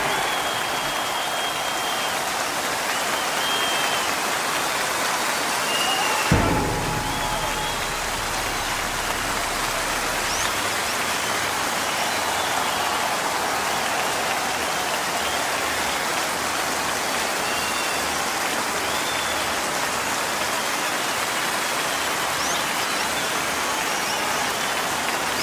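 Sustained applause from a large concert audience fills the whole stretch at an orchestral show in Maastricht, a dense, even wash of clapping with a brief thump near the start and no talk.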